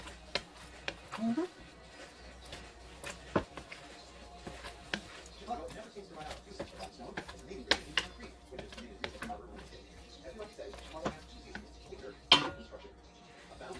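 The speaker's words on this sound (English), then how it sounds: "And you want to stir it frequently." Apple preserves being stirred in a pot, giving soft, scattered scrapes and occasional sharp clinks of the utensil against the pot, with a person talking throughout.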